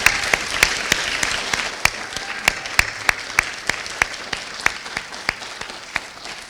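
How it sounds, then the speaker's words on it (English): Audience applause at a debate competition final, made of sharp, evenly spaced individual claps ringing out fairly close and clear over a light background hum. "Let's give them a round of applause"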